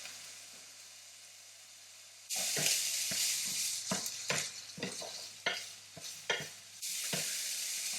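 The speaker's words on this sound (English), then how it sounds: "the bacon is already making a very nice sizzling noise" Bacon sizzles loudly in a hot pan after a quiet start, with scraping stirs and crackling bursts breaking through the steady hiss.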